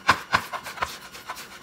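A knife chops raw shrimp finely for momo filling on a board, a handful of quick, crisp, uneven strokes heard up close with no talking.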